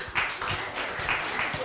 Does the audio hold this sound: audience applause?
yes